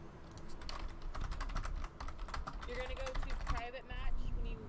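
Rapid clicking keystrokes on a computer keyboard rattle in quick, uneven bursts close to the microphone, with a brief pause midway, while voices talk over the typing.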